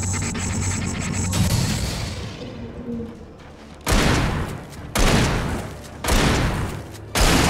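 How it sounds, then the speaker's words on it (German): Four loud, booming shotgun blasts in quick succession in the video game Alan Wake, each with a sharp broadband burst and brief decay, following a stretch of rumbling game noise. "4 Schüsse aus der Flinte"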